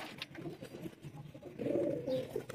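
Pigeons cooing at a large pigeon loft setup in Delhi Gate, soft low throaty coos repeating through the whole stretch, a fuller burst of cooing toward the end, moderately close with no talk.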